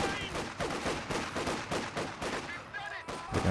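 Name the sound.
gunfire from grenadiers in the video game Company of Heroes 2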